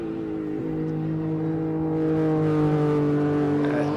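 A classic race car accelerates at the Simola hill climb. Its engine note is a steady, fairly loud drone that climbs gradually in pitch over a few seconds, with no talk.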